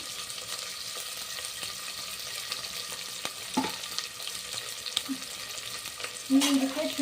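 Onions frying in a pan for vegetable pulao, a continuous moderate sizzle with a few stirring scrapes and a brief clatter near the end.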